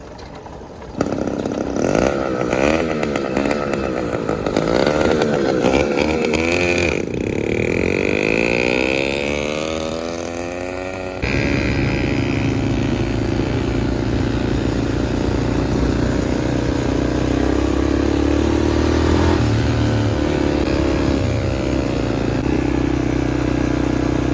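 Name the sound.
motorized bicycle kit engine running with nitrous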